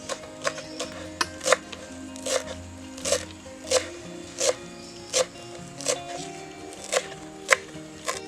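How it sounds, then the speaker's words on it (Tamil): Knife chopping onions and tomatoes on a board for the masala of a Kerala-style fish fry cooked in banana leaf: steady, evenly spaced sharp cuts, about a dozen strokes, close by over a low background hum. "இதுக்கு வெங்காயம் தக்காளி வெட்டிக்கிடுவேன்"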